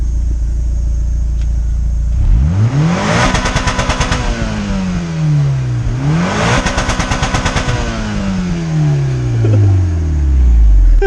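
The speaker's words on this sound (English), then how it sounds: "if you want to rev it so you can hear what your car sounds like. Stock exhaust still," Mitsubishi Lancer Evolution 4 with stock exhaust revved twice in quick bursts, each climbing sharply with a crackling rasp at the peak before falling back to a steady idle, loud and close.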